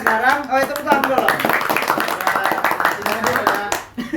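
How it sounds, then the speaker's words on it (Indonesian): A group claps hands in a lively, rapid patter during a podcast session, the claps running continuously underneath overlapping voices talking and laughing close by. "itu tepuk dulu"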